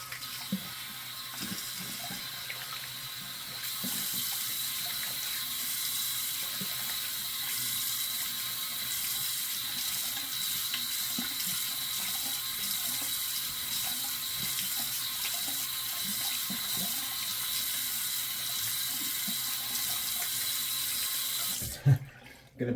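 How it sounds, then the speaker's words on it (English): Running water from a tap as someone rinses off after shaving, a steady, faint hiss that goes on for about twenty seconds and then stops with a soft clunk. "All right, let me rinse off."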